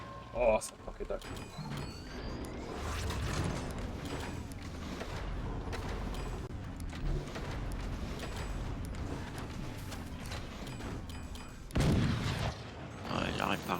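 Repeated booming blasts of cannon fire in the video game Forts, heavy and continuous under a busy mix of effects, with a loud burst near the end.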